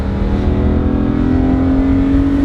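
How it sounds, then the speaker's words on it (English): An E46 BMW M3 CSL's naturally aspirated engine with carbon intake revs hard and high toward its 7,900 RPM redline, a loud sustained roar climbing steadily in pitch, close up. "So high revving, naturally aspirated, carbon intake."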